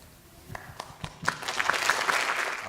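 An audience at a Sesc Vila talk event breaks into applause, starting with a few scattered claps and swelling into full, steady clapping from a large crowd.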